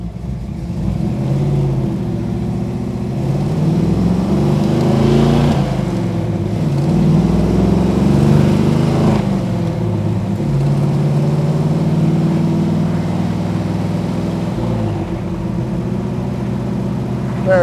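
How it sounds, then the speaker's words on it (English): A 1963 Chevrolet Nova pulls through its gears, engine note rising and falling in several drawn-out surges with brief dips at each shift, heard from inside the car. "hit the brakes, hit the gas pedal, go through the gears, and make sure this thing does what it's supposed to do"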